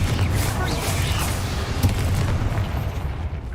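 A Confringo explosion spell in the Hogwarts Legacy video game, rendered as a sustained heavy low-end boom and rumble with faint crackling on top, loud and continuous with one sharper burst partway through.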